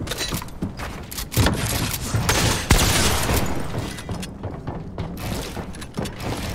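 Combat Assault Rifle gunfire in Fortnite, a dense run of loud rapid shots with thuds and impacts, including shooting through a wall, with no talk.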